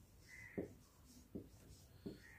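A formula for simple interest written by hand, three soft, evenly spaced taps and strokes of a pen, faint and close, over a low steady hiss.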